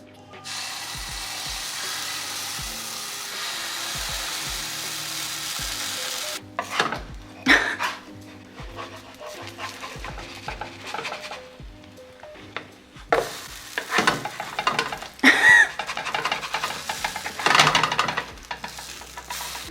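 Pancake batter sizzles steadily in a hot frying pan, with scraping and clinking from a utensil and pan handling between stretches of frying.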